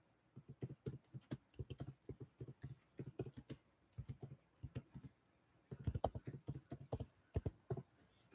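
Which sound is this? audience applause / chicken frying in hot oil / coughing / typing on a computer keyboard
typing on a computer keyboard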